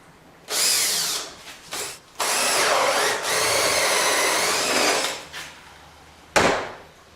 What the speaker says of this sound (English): now I can drill a 5/8 inch hole. I'm going to go about 1 inch deep.